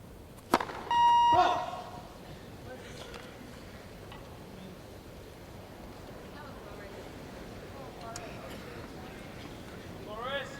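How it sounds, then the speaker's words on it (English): A Cyclops electronic service line machine beeps on a Wimbledon grass court during a 1999 men's singles match, one short clear electronic tone early on against quiet crowd ambience and commentary. "It's constantly beeping at him."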